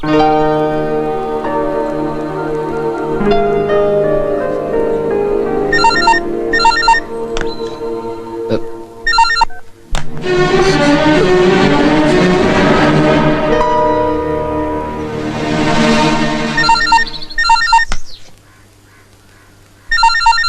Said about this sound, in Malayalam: മൊബൈൽ അടിക്കുന്ന കേട്ടില്ലേ